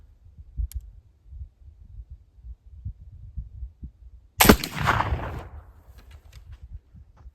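A single sharp gunshot fired with brass media (brass milled alder buckthorn) cracks loudly midway, followed by a decaying rumble and a few faint clicks over low background noise.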